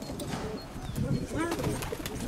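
Ancient fighting pigeons coo at a breeder's loft: soft, repeated throaty coos, close by, with faint chirps and voices talking in the background.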